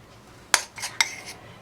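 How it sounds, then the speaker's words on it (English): A metal teaspoon clinks twice against a dish of melted chocolate, sharp and close, with a soft scrape between the taps in an otherwise quiet room. "I'm literally taking a teaspoon of chocolate, letting the excess drip off, and then drizzling it over"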